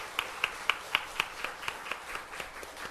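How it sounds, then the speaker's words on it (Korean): Church congregation at a Sunday worship service clapping in praise to God, a steady run of about a dozen crisp, evenly spaced claps in unison, moderately loud with a faint room hum beneath. "하나님께 영광의 박수 드리겠습니다"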